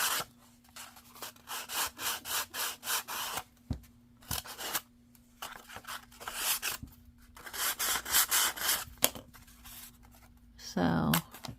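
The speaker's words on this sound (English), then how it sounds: "sand the sides." Paper being sanded along its edges, thin decoupage-type packaging paper made into ephemera, in repeated close rasping strokes with short pauses and a brief tearing sound at the end.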